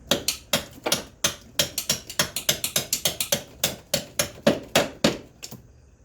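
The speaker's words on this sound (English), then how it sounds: "Just gonna see if I can hammer it out." A hammer strikes a stuck bolt in the left-side engine mount of a Toyota MR2 with a 4AGE engine: about two dozen close, sharp metallic blows in a quick, fairly even rhythm before it goes quiet.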